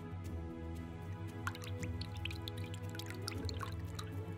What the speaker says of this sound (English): all you need to do is bring over your net and very carefully empty it into your bucket of water